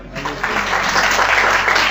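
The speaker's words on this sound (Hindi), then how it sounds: "इनके लिए तालियां बजाए" Short, lively clapping from a church congregation welcoming first-time child visitors, a brief dense patter that stays steady across two seconds.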